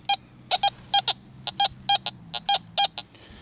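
A Teknetics G2+ metal detector gives a run of short, bright beeping tones in quick irregular bursts, about a dozen chirps over a low steady hum.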